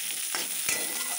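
Mango pieces fry in hot oil over a mustard-seed tempering, giving a loud, continuous close sizzle with a couple of soft stirring scrapes and no talk.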